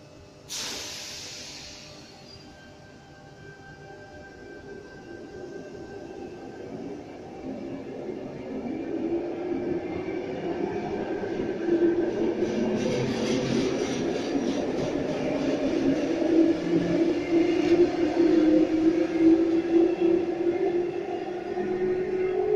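Sydney suburban train set departing a station platform on the Epping–Chatswood line, a low rumble and hiss that slowly builds and rises in pitch as it pulls away, steady with no talking.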